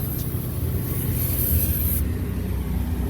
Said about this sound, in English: This ain't the best sprayer, but I just need a little bit.